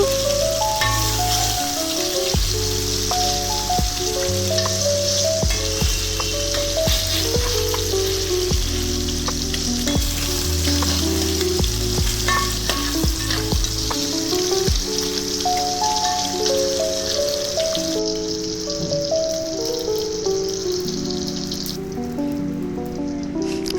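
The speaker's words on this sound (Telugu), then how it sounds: "వాష్ చేసిన దానికి పసుపు పెట్టి కొంచెం లైట్గా రోస్ట్ చేస్తున్నాను" Fish rubbed with turmeric roasts in oil in a kadai, a steady dense sizzle and crackle that runs the whole time under loud background music, with no voices.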